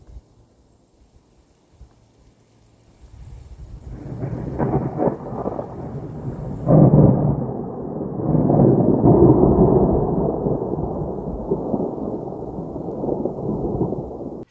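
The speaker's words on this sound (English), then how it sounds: "we experienced something called a thunder snow, which was really new to me. That is when you have a thunderstorm, but it's snowing." Thunder snow, a thunderstorm during snowfall, rumbles in after a quiet start, building into long, loud rolling thunder with a sharp crack near the middle and sustained low roaring to the end.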